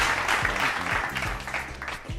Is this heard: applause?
yes